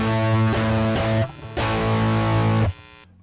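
Electric guitar played through a rare Canadian distortion pedal cranked fully up, heavy saturated chords ringing in two long sustained blocks with a brief choked gap between, loud and alone before cutting off.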